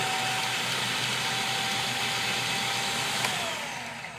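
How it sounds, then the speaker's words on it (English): Food processor motor running at full speed while chopping garlic, a loud, even whirring roar that holds steady, then begins to fade as the machine winds down near the end. "you notice how really quickly it actually chopped up that garlic"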